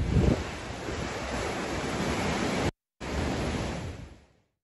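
Sea waves wash onto a Black Sea shore in a steady, roaring surf hiss, loud and continuous, with a brief cut in the middle before fading out at the end.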